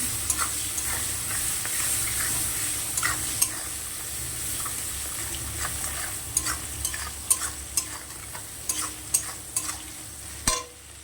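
Finely chopped small onion fries in a pan for mustard prawn curry, a steady close sizzle with intermittent scraping and tapping stirs that grow more frequent toward the end.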